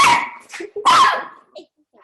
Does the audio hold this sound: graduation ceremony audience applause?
no